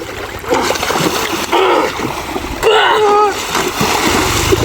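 Water splashes and churns in the Baitarani river in bursts, loud and close, with people talking over the sloshing throughout.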